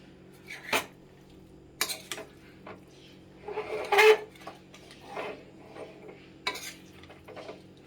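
Kachki fish being gently stirred in a pan for a bati chorchori, heard as a few soft scrapes and utensil clinks spaced out against a low steady hum, fairly quiet throughout.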